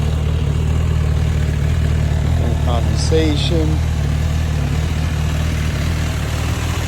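An MV Agusta 1090RR Brutale motorcycle with its stock exhaust idles in a steady, even low rumble that runs the whole time, while a person briefly speaks over it.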